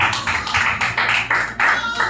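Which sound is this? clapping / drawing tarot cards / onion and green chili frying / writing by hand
clapping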